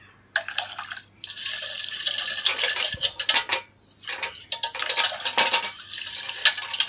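A tarnished brass bucket being scrubbed and rinsed, with splashing water and metallic scraping and clanking in bursts separated by short pauses, close and fairly loud, no talking.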